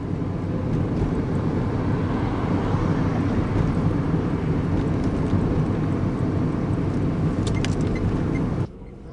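Steady low road rumble and engine drone from inside a car driving in the dark, continuous and fairly loud, cutting off abruptly near the end.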